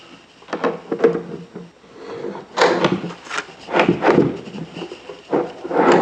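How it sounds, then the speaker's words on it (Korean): A wooden drawer fitted with rails is slid in and out of a handmade kids' desk body, giving repeated close hollow wooden sliding rumbles and knocks of varying loudness, with no talk. "이제 서랍을 몸체에 잘 맞는지 넣어 보시고 서랍 앞판을 부착하도록 하겠습니다"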